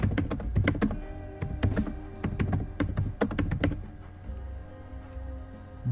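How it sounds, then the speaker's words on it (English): Quick, close keystrokes on a computer keyboard as an SMS message is typed, coming in uneven clattering bursts that thin out to sparse taps over a low hum. "Here you have to type the SMS body."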